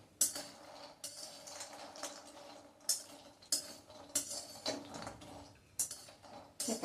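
Dry-roasted ingredients are scooped from a pan into a bowl with a spoon, making a series of quiet, irregular metallic clinks and scrapes at close range.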